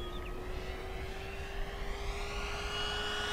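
An FMS P-47 Thunderbolt 1700mm RC model airplane makes a flyby, its electric motor and propeller whining steadily with a rising, shifting pitch as it passes.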